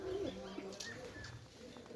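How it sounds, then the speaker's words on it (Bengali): Pakistani Golden pigeons coo softly close by, one low rolling coo at the start and fainter ones trailing after, with a quiet voice now and then in the background. "পাকিস্তানি গোল্ডেন বলে, সেই গোল্ডেনের বাচ্চা দেখুন"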